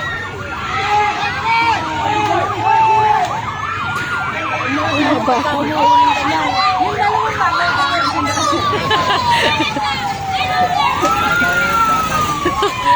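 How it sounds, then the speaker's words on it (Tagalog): A fire truck siren wails, rising and falling continuously while people talk nearby amid a busy crowd murmur, the siren loud and sweeping through long glides, near a wildfire behind a house. "Ayan na, fire truck."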